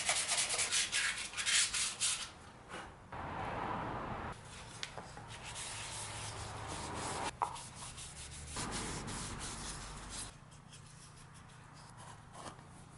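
A belt sander shapes a wooden kuksa cup carved from non-burl wood. A steady gritty rubbing whirr runs close by, its pressure shifting in uneven passes, with brief breaks and changes in intensity, and no voices.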